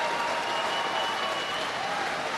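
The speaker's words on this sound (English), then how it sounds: "No wonder Coach Kumar applauds" Crowd applause rises across a badminton arena during a Superseries Finals match in Dubai, a steady wash of clapping sustained for a couple of seconds with no clear speech over it.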